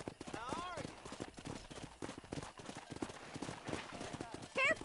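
Horse hooves clip-clop at a steady trot in the Western video game Red Dead Redemption, with a voice talking over the hoofbeats throughout.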